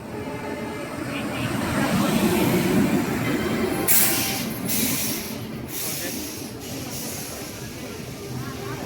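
Taj Express train at Agra railway station, a loud continuous rumble of rolling railcars with brief metallic squeals and hisses, steady station noise throughout.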